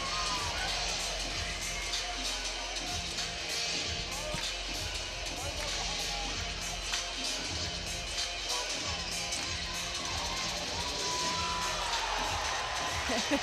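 Arena crowd at a college women's gymnastics meet between Oklahoma and Arkansas cheers and whoops in a steady roar that fills the whole stretch, with no talk over it.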